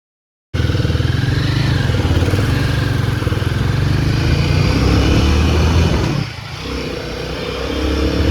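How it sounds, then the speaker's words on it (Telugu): A Royal Enfield Guerrilla 450 motorcycle on a test ride rumbles loudly and steadily up close for about eight seconds, its engine note dipping briefly near the end before building again, with no talking. "నేనైతే బైక్ టెస్ట్ రైడ్ చేశాను."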